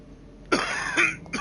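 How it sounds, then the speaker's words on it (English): A man coughs two or three times in quick succession close to the microphone, harsh and loud, while a Vampyr video game plays in the background. "sorry about the coughing"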